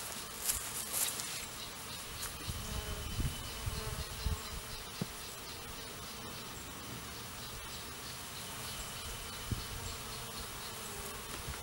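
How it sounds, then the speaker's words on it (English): A honeybee swarm buzzes outdoors around a bait hive tied up in a tree, a constant droning hum with individual bees zipping close by, no talking. "I would expect the bees to be somewhat defensive"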